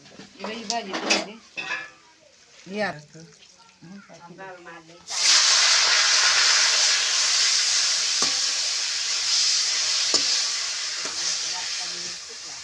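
Cumin seeds hit hot oil in a wok: sharp sizzling bursts up loudly after a few seconds of kitchen clatter and talk, then a steady frying hiss continues with occasional utensil clinks.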